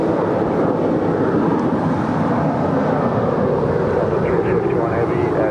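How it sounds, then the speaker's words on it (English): A Delta 767-400ER widebody landing on runway 25 left at Los Angeles airport: a steady loud roar of jet engines and rushing air, with heavy wind noise on the microphone throughout. "Just had a Delta Airline 767-400ER coming in from JFK, flight 351. She just landed here on the south side on 25 left."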